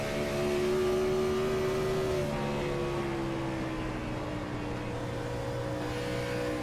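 Race car engine holding high revs on an oval in a racing video game at Dover Motor Speedway, a steady loud drone with slight pitch dips, alone without talk.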